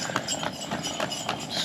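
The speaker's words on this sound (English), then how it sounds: "just getting around this horse a minute." A horse's hooves clip-clop on a road in Bali, a steady run of close hoof knocks over traffic and street noise.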